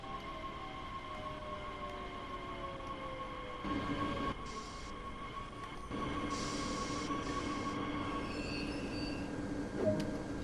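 A train in Train Sim World 2 runs on the Köln high-speed line and pulls into a platform, with a steady rumble of wheels and motors, tonal hums and a few short mechanical clunks and squeals.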